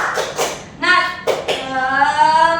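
A teacher leads a classroom in the "tepuk semangat" spirit clap: a few sharp rhythmic hand claps in two short bursts, alternating with a loud chanted voice, close and clear.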